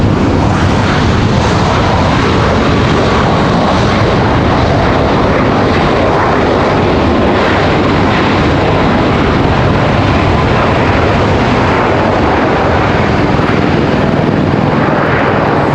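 Loud, sustained jet roar of a United Airlines airliner from Houston at Raleigh-Durham airport, a dense broadband engine rumble that stays strong and close throughout.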